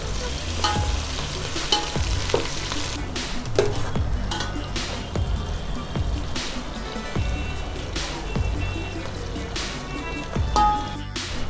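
Five large sliced onions fry in a big pot for mutton biryani, stirred continuously: a dense, even sizzle with scattered scraping strokes and spatula taps, loud and near.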